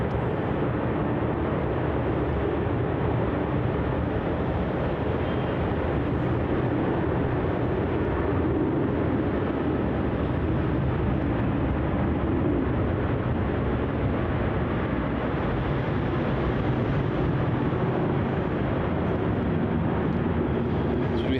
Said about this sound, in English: And there goes that 737.